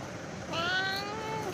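A cat gives a single clear, drawn-out meow, close and moderately loud, in a short burst.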